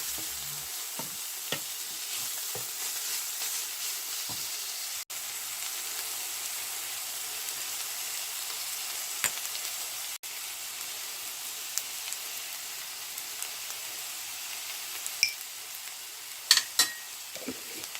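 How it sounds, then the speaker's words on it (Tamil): Steady sizzling and frying of mixed vegetables with turmeric and chili powder sautéing in a pan for couscous, with occasional stirring scrapes, continuous and close, with no talk. "அதோட மஞ்சள் தூள், மிளகாத்தூள் உங்களுக்கு விரும்பின காரத்துக்கு அளவாக சேர்த்து வதக்கி கொள்ளுங்கோ"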